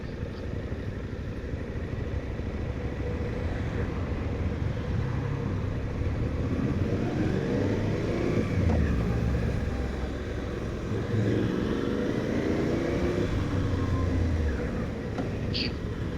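A motorcycle on an open road overtaking a caravan, the engine droning steadily and rising in pitch as it accelerates, with heavy wind rumble throughout.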